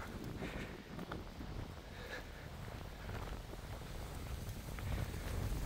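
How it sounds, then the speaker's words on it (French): Strong south wind roars steadily across the microphone with low rumbling buffets and gusts, loud and continuous, swelling toward the end; no voices. "C'était du bon gros vent de sud ça."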